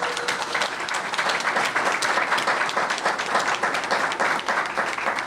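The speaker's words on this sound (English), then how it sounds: "we'll applaud for her anyhow" Sustained applause from a crowd at a school board meeting, many hands clapping at once in a steady, dense patter that stays loud throughout without pause.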